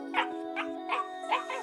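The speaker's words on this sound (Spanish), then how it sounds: "¡Sí! ¡Un cachorro!" A puppy gives a run of four or five short, high yips and whimpers at an even pace, close and clear over a steady tonal hum.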